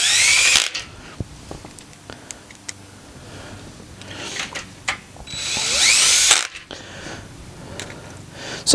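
A power drill whirs in two loud bursts during assembly of a small walk-in greenhouse, each run lasting about a second, with clicks and handling noises of parts and fasteners in the quieter gaps between.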